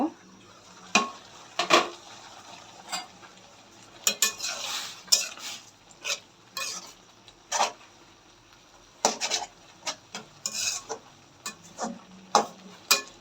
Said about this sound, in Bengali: তুলে একটু নেড়ে দিব